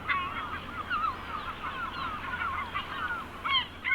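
Seabirds call repeatedly over a steady background wash, a chorus of harsh honking cries that overlap throughout and swell near the end. Yellow-legged and Audouin's gulls in Sardinia.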